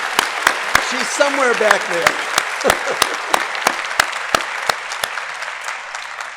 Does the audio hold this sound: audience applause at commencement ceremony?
yes